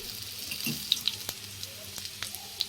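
Spice paste for a vegetarian jackfruit curry cooking in a pan with added water gives a soft, continuous sizzle with a few light ticks and scrapes, fairly faint and without talk.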